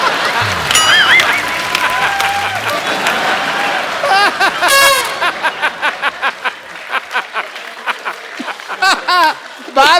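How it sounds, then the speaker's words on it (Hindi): Studio audience at a televised Hindi comedy talk show clapping, the applause loud and close, running under laughter and chatter before it thins into scattered, rhythmic claps. "आपने तालियां मारी ना अभी अभी"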